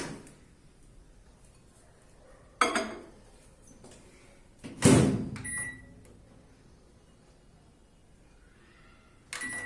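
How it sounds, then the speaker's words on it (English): A microwave oven heats a large bowl of Maggi Masala noodles in water, a low steady hum broken by a few sharp clunks and clicks of the door or controls, with a beep near the end. "and microwave it for 2 minutes"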